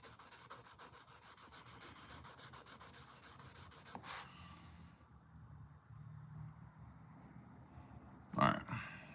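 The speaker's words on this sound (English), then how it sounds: "we are sanded to a wore out 1000 grit on that bolster" Hand sanding of a Case trapper knife bolster with worn 1000 grit sandpaper, a quiet, steady rubbing rasp of back-and-forth strokes that stops partway, followed by faint handling noise and a brief louder knock near the end.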